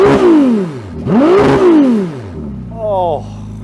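A Ferrari V6 revs hard toward the red line while stationary, two loud rising-and-falling sweeps followed by a shorter, quicker blip, each settling back to a burbling idle.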